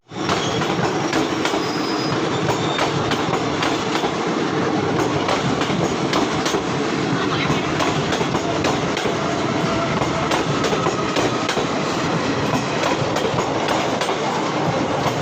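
Gomti Sagar Express between Lucknow and Mathura running on rails, a steady loud rumble of wagons with rhythmic clickety-clack and occasional wheel squeal throughout, with no talk.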